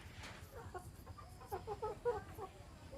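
Hens cluck softly in a rural Thai setting, a few short clucks and murmurs scattered unevenly, fairly near but faint, with background noise and no clear talk.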